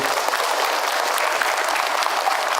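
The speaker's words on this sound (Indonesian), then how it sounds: "Tepuk tangan buat beliau." Steady, dense audience applause at an Islamic question-and-answer lecture, a full room clapping loudly and evenly throughout with no speech over it.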